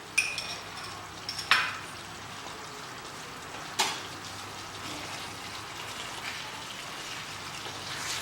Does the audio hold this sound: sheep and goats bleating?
no